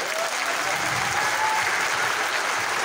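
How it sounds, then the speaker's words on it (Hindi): An indoor audience at an RCM company event in Bhilwara, Rajasthan applauds loudly, dense continuous clapping throughout with no pauses. "आप ले जोरदार तालियां बजाइए आप"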